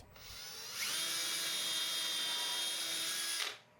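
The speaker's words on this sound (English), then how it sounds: "drill the pilot holes that are needed for your end stops at each mark" A power drill whirs at high speed for about three seconds, drilling pilot holes about 2 inches into a post for cable railing end stops, a steady bright whine that starts and stops abruptly.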